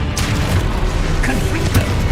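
Spell blasts go off in the Hogwarts Legacy game, with deep booms and bursting crashes in a dense, loud, continuous barrage of combat noise.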